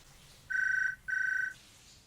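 A telephone in a Cowboy Bebop anime episode rings twice in quick electronic trills, each about half a second long with a short gap between, clear and moderately loud with no talk over it.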